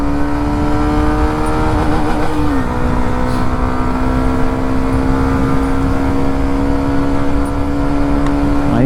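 A Hero Xtreme 125 motorcycle accelerates hard during a top speed run, its engine droning loudly and steadily under heavy wind rush, with a brief dip in pitch partway through as it shifts gear.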